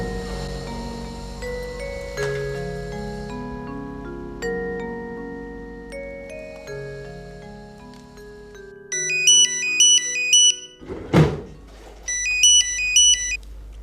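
An electronic phone ringtone plays a rising, layered melody, then switches to a fast, repeating beeping pattern, loud and clear with no voices.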